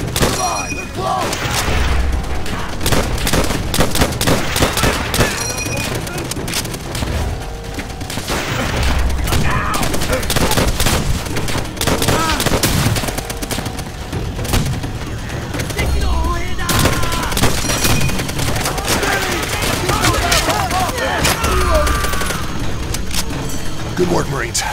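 Machine gun fire and scattered gunshots rattle continuously in Call of Duty World at War, with bursts, booms and shouting voices mixed over the battle.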